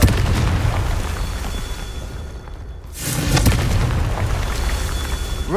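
A Confringo spell in Hogwarts Legacy goes off as a booming fiery blast, a rumbling roar that dips briefly and then swells again with a second burst, loud and up close.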